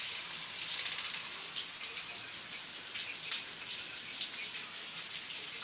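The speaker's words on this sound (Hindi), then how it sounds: "घंघोर बारिश हो रही है इसमें प्रयागराज में।" Heavy rain pours down in Prayagraj, a dense, constant hiss of drops hitting surfaces all around, with no one speaking.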